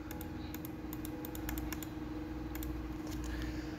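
Computer keyboard keys pressed in quick irregular clusters of sharp clicks over a steady low hum, close and fairly clear, with no talking.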